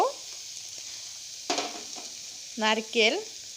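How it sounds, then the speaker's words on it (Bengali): Onion, green chilli, tomato and cabbage frying in a pan for pasta, a faint, steady high sizzle with brief stirring clatter, and short voice sounds breaking in near the end. "এখানে আমি পেঁয়াজ, কাঁচা লঙ্কা, টমেটো, বাঁধাকপি ভেজে নিচ্ছি।"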